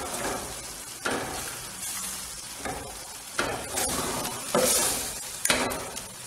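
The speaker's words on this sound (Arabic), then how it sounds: "نحاولوا نخليو نحركو باش هذيك القرعه حتى هي تشرب من المكونات" Zucchini sizzles in a pan with tomato sauce while a utensil stirs it, giving repeated scraping, knocking strokes over a steady frying hiss, close by.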